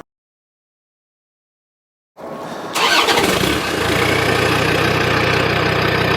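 A Land Rover engine starts after two seconds of silence and settles into a loud, steady idle with a brief rise in revs, close and clear with no talking.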